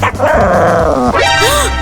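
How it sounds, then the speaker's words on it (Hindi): An aggressive puppy barking loudly and close, a few high yapping barks with whiny rising tones, with no talk over it. "मुझ पे भौंकना बंद कर।"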